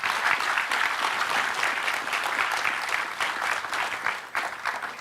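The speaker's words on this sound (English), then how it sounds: "So a round of applause for Danny." A lecture audience claps in sustained applause, a dense steady patter of many hands that stays even and fairly loud throughout.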